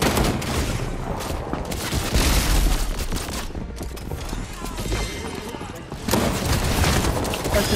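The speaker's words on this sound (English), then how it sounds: "Someone's shooting him." Dense, continuous gunfire and booms from a multiplayer shooter video game fill the clip, loud and sustained with brief dips, while players talk faintly underneath.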